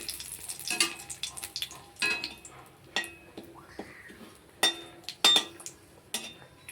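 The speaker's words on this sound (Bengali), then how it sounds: "একটা শুকনো লঙ্কা দিল ফোড়নে, তেজপাতা দিল, একটু হালকা একটু" A dried red chilli and a bay leaf fry in a little hot oil for tempering, giving a soft, uneven crackle with sharp pops and a few light clinks of a utensil against the pan.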